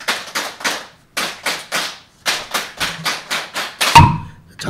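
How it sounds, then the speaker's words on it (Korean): A group claps in the Korean 3-3-7 rhythm at a Buddhist lecture: two sets of three sharp, close claps, then a run of seven, ending on a louder final clap with a brief thud, with no talking. "자, 337 박수 한번 시작."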